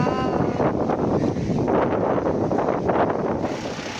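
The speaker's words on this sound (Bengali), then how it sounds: "তো এখানে সত্যি এত হাওয়া দিচ্ছে, কি বলবো।" Strong wind gusts across a riverside near Mahisadal, buffeting the microphone with a close, steady roaring rush that swells and eases slightly throughout, with no voices.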